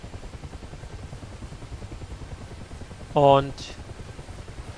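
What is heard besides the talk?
Mi-8 helicopter engine in the video game Digital Combat Simulator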